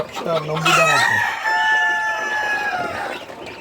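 A rooster crows loudly and close by, a long drawn-out call, while Fayoumi hens cluck around it.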